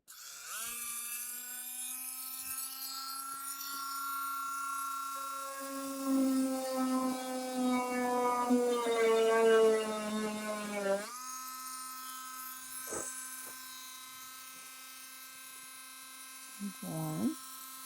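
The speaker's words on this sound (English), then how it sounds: "I have a little Dremel tool and I'm going to drill a hole in the top of one of those." Small Dremel rotary tool drilling a hole in the top of a handmade UV resin earring, a steady high-pitched motor whine that bogs and roughens under load mid-way, then spins freely again before brief clattering.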